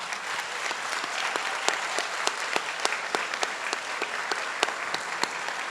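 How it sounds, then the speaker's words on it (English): Steady applause from a sizable audience at a college academic award ceremony, a dense even clatter of many hands with a few sharper claps standing out, continuing throughout. "let's have a round of applause for the guests in the back"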